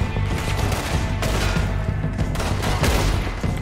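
Cowboy-style gunfire in a video game, a dense loud barrage of overlapping shots and booms with a few stronger blasts standing out, continuous for several seconds.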